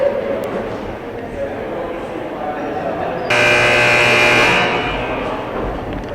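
A basketball game clock buzzer at a junior varsity boys' game sounds as one sustained electronic tone of a little over a second, rising loud above steady gym crowd noise.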